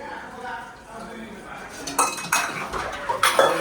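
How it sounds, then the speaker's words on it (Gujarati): Mother washing dishes at home, with pots, pans and cutlery clinking and clattering in a steady run of sharp knocks that grow louder in the second half, over faint room noise. "વાસણ ધુએ છે"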